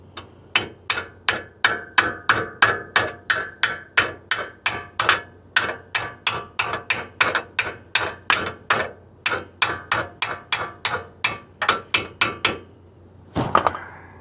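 A steel hammer taps a front brake caliper part into place with a long run of steady, evenly spaced sharp metallic knocks, close and loud, ending with a brief scraping shuffle.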